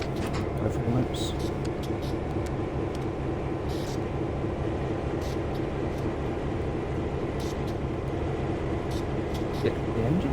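A train engine in Train Sim World 3 gives a steady, continuous low rumble that holds evenly throughout with no clear breaks.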